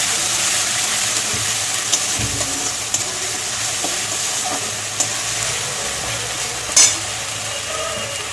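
Ginger-garlic paste sizzles steadily in a hot oiled pan, a loud continuous frying hiss with a few faint clinks of a utensil, and nobody speaks.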